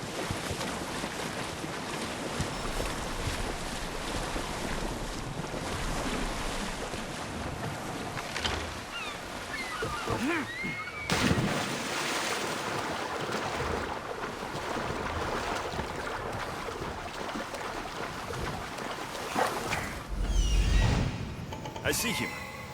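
A boat sails across open sea in Assassin's Creed Odyssey, a steady rush of water and wind noise running throughout with occasional louder wave surges, while a voice talks over it.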